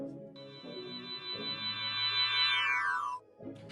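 A reversed piano riser, heard dry without effects, swells upward over a couple of seconds before cutting off abruptly, with low piano chords sounding beneath it, fairly quiet and alone.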